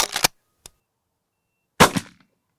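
Browning BPS shotgun with a 32-inch full-choke barrel firing Boss 3.5-inch copper-plated bismuth shot, with two sharp close blasts about a second and a half apart, each decaying quickly, and a small click between them.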